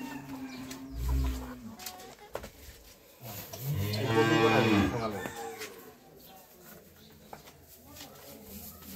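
A medium-sized dairy cow moos in a village courtyard on a drizzly day, one long loud low call close by, with someone talking before and after it.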